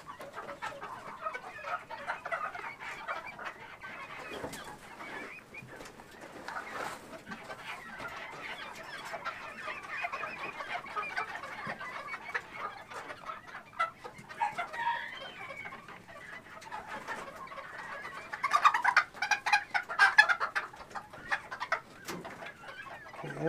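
Silver Sebright rooster and hens clucking steadily, a busy flock of bantam chickens close by, with a louder burst of clucking and squawks near the end.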